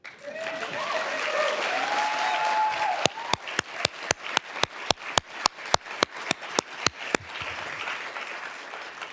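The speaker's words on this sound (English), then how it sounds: "I'm going to pause so you can clap." Audience clapping at a foundation gift announcement, a dense round of applause with crowd murmur that gives way to a run of slow, evenly spaced single claps, loud and close, before fading back to a soft wash of room noise.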